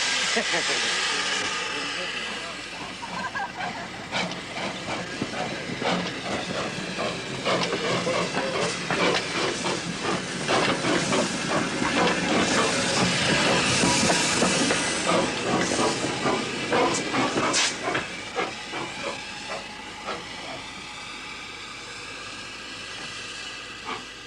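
Sans Pareil replica steam locomotive, its steam blast exhaust giving a steady hissing chuff that swells in the middle and fades toward the end, heard at moderate distance with a low rumble underneath.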